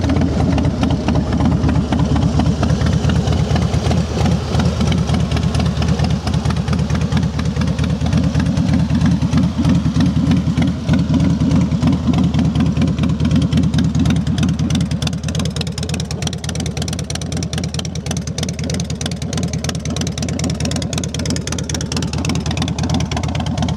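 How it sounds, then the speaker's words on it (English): A Harley-Davidson Softail Fat Boy FLSTFI engine idles close and loud, with a steady, even, low rumbling beat and no talk. "Up nice and clean, real strong running motor."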